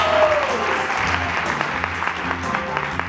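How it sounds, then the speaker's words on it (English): Live audience applauding at a Hawaiian comedy show, a dense, steady wash of clapping hands that fills the room from start to finish. "Give him a nice round of applause,"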